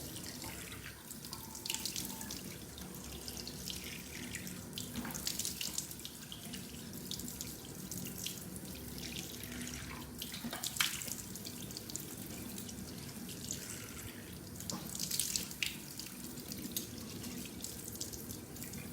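Warm tap water runs steadily into a sink while an exfoliating face mask is rinsed off, a continuous splashing stream with small shifts and bursts as hands move through the flow.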